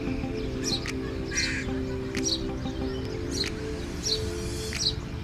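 Crow cawing near a house, several short harsh calls spaced a second or so apart over a steady low background hum and faint rustling.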